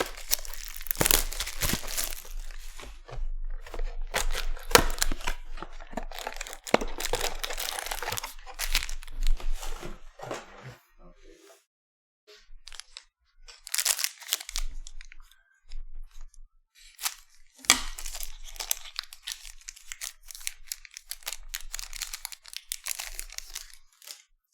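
Foil wrappers of Panini Revolution basketball trading card packs are torn and crinkled open close by, in busy bursts of ripping and crackling, a quiet pause near the middle, then more crinkling.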